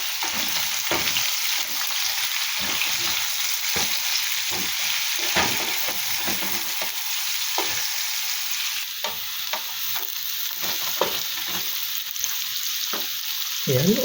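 Chopped onion and garlic sizzle in hot oil in a pan, a loud steady frying hiss with repeated scraping and clacking of a stirring utensil, no one talking.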